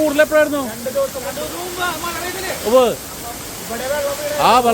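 A waterfall in Thrissur gives a steady, broad rushing hiss in the background while people talk over it nearby.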